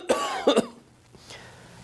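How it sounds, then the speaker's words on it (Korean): Deliberate coughing at a broadcast news desk microphone: one sharp cough followed by a quick double cough, close and clear, then a faint trailing breath in a quiet room. "이 마이크 켜놓고 기침하기는 저도 처음인데요"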